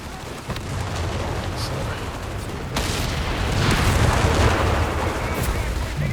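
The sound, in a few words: 105 howitzer artillery explosion in video game Company of Heroes 3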